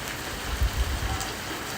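Steady, hard rain falls during a Miami thunderstorm, a dense continuous hiss with a few soft low thumps and no voices.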